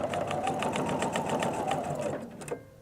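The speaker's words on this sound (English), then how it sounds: "We lift it up, push it back, do 1 more, and you just sew and sew and sew." Sewing machine stitching a Dresden plate quilt block: a steady, fast, even mechanical chatter that runs close and loud for a couple of seconds, then slows and stops.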